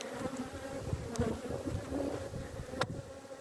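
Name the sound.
honey bees buzzing at an opened hive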